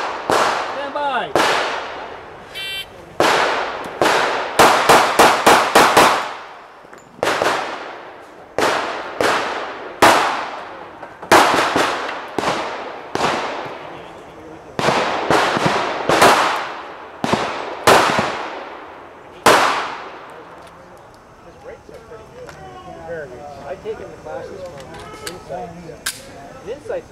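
Handgun shots ring out at an IDPA shooting stage, a long series of sharp close reports in quick strings with brief pauses and echoing decay, ending in quieter shuffling sounds.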